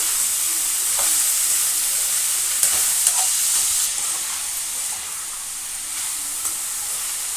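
Ridge gourd curry with ginger-garlic paste and onion sizzles in a pan with a bright, continuous hiss, while a spoon stirs it with a few soft knocks and scrapes. No one speaks.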